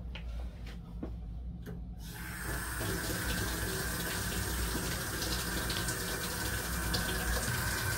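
A household hot water tap is opened after electrical disconnect work, starting as a quiet trickle under light clicks and then rushing into a steady, loud, continuous flow.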